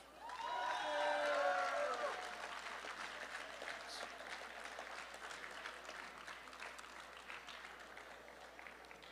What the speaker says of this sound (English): So can we hear a round of applause for all the graduates today?